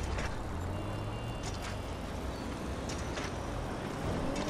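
A truck in Grand Theft Auto V traffic rumbles faintly as a low, steady engine drone under broad road noise, with a few brief higher clatters on top.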